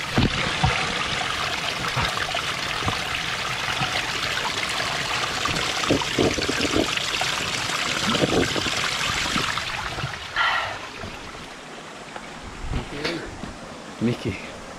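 Steady splashing trickle of spring water running straight out of a rock in a bank, close by, continuous for most of the time before thinning out into a few scattered drips and splashes.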